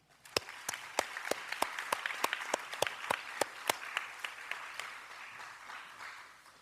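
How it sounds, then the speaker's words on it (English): An audience at a school district board meeting gives a round of applause for students, a thick spread of clapping marked by loud, regular sharp claps close by, fading slightly toward the end. "Let's give these kids a big round of applause"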